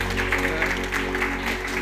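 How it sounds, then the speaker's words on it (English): Applause from an event audience welcoming the CEO of Safaricom PLC, Peter Ndegwa, to the stage; steady, dense clapping sustained throughout without voices over it. "please, a round of applause to the CEO, Safaricom PLC, Mr. Peter Ndegwa"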